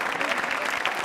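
Studio audience at a quiz show breaks into loud, dense, continuous applause, close and even from start to finish.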